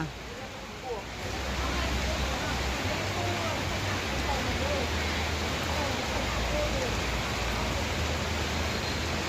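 Steady rain falls on a market with no wind, a dense even hiss filling the scene for the whole stretch, loud and close, with no talk.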